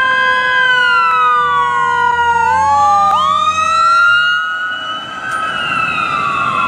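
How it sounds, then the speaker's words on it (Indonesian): A toy ambulance siren wails with electronic rising and falling tones, loud and close, shifting pitch pattern partway through, with no voices. "Ada mobil ambulans teman-teman"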